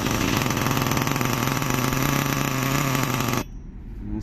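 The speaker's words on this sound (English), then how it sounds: "then we're going to try and restart the buggy" A nitro RC buggy engine runs with a loud, buzzing, high-revving rattle, likely on a starter, then cuts off abruptly, leaving a quieter hum for the last second.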